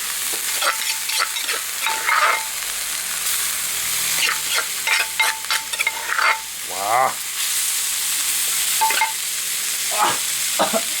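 Eel stir-fried with vegetables in a small pan sizzles loudly and close, broken by repeated scrapes and clanks of a utensil stirring against the pan.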